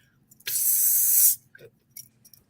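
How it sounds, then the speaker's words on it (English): A spray paint can hisses in one steady burst of just under a second, loud and close, followed by a few faint clicks and rustles. "Ruby took out the spray paint."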